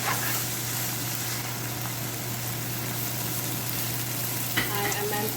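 Chow mein noodles stir frying with chili in a hot pan, a steady, close hiss of sizzling oil with a low hum beneath and a brief scrape of stirring near the end.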